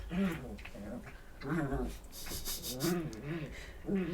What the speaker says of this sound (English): they're just playing and the one puppy's like upside down kicking her feet in the other dog's mouth